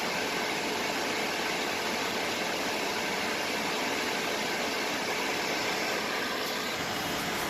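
A portable air conditioner runs with a quiet, steady compressor hum and broadband airflow hiss, unchanging and close, with no talk.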